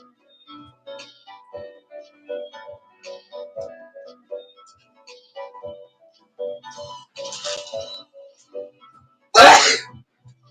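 A quiet run of faint tapping and ticking, then one loud, abrupt sneeze near the end.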